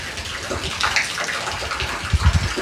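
Water from a pump pours steadily into an outdoor well, a continuous splashing rush that holds for the whole stretch and swells briefly near the end.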